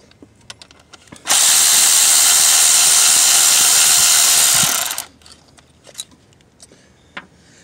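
A power tool with an E10 socket removes water pump bolts on a Chevy Cruze 1.4L turbo, a single loud, close, steady whirring burst of about four seconds, set between quiet clicks and clinks of handling.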